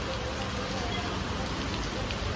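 Heavy rain pours steadily in Tuljapur, a dense, even hiss of downpour on surfaces, close and continuous with no break.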